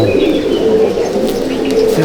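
A male pigeon in a loft at Halisahar coos loudly and close by. Its deep, throaty murmur runs on without a break, and faint chirps and shuffling sit in the background.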